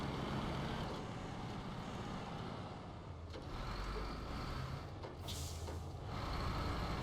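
Heavy truck driving in the video game SnowRunner, a dull continuous engine drone with a couple of brief hissing bursts midway, steady throughout and without talk.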